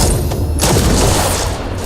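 A weapon fires in the video game XCOM 2, a loud, dense blast that fills the moment with broadband roar and no speech over it.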